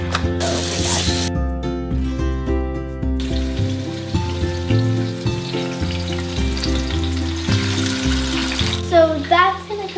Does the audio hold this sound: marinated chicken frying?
yes